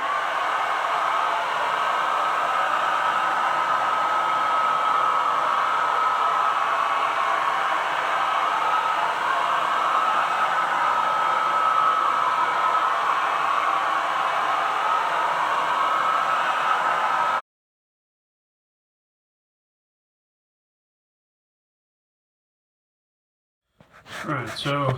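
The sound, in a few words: hair dryer blowing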